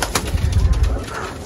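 Pigeons coo in soft, low, throaty murmurs, close by and continuous over a brief moment.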